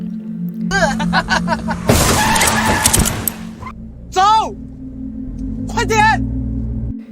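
A car crashes into a passing motorcyclist in a dramatized scene, a loud burst of tire noise and impact around two seconds in, over a steady engine hum, with dramatic whooshing effects and a voice talking throughout.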